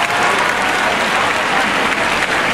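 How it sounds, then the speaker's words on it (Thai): A concert crowd applauds loudly and steadily, a dense wash of clapping close and continuous throughout. "ปรบมือให้พี่หนุ่ยนะครับ"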